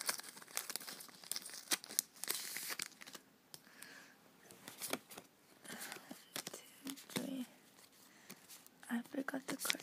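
Plasma Freeze and Furious Fists trading card packs crinkle and tear open close by, with repeated sharp rips and foil rustles under quiet talking.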